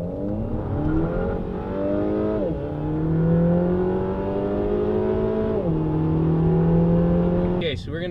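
A small-displacement turbocharged 2-liter car engine with a DSG gearbox accelerates hard, its loud, steady drone rising in pitch through two gear shifts before settling. Nobody speaks.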